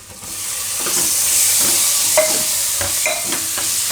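Onion and tomato fry in oil while being stirred, giving a close, loud sizzle broken by repeated scraping and clinking strokes of a spoon against the pan.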